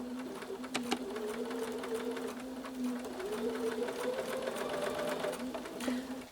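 A sewing machine stitches pieced quilt block fabric in a steady, continuous close hum with rapid needle chatter, briefly pausing and resuming, with no talking.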